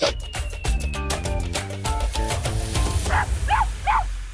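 Music plays throughout, then a puppy gives three short high yips near the end, one after another, with a whimpering edge.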